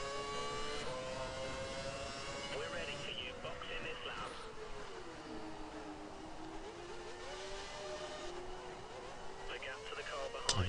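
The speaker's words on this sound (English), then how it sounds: "I can hear his motor revving up" A race car engine drones and revs through a rising and falling whine, heard at a distance under steady broadband noise and a voice.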